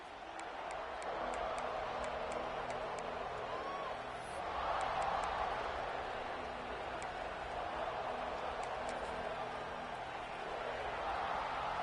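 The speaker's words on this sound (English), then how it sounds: "This crowd ready to make its presence known." A big football stadium crowd roars steadily at the opening kickoff of a Lions game, a broad sustained wash of cheering heard from a distance with no clear pauses.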